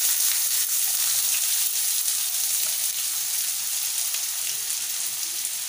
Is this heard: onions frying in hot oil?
yes